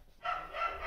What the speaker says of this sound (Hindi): कुत्ते ज्यादा ही भौंकने लग गए थे।